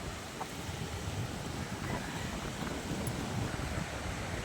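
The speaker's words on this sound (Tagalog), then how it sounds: "Lakas ang hangin." Strong wind gusting by a river on farmland, a constant heavy roar of buffeting air across the microphone with a low rushing rumble beneath.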